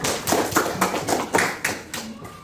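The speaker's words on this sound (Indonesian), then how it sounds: "tepuk tangan untuk Fadila." Students in a classroom clap together in a rhythmic pattern, about eight distinct, evenly spaced claps at moderate volume, with faint voices in the background.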